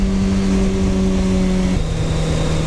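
A Suzuki GSX-R1000 superbike engine fitted in a car revs hard and loud up close, holding a high steady pitch before dropping abruptly to a lower note.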